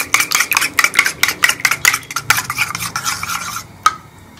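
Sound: whisking eggs in a bowl for shami kabab

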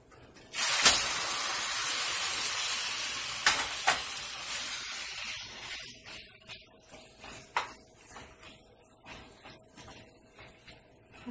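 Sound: meat frying in hot oil in a pan

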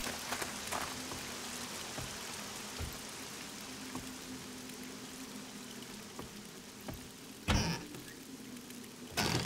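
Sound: rain falling in the video game 7 Days to Die

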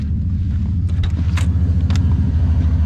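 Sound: car engine running

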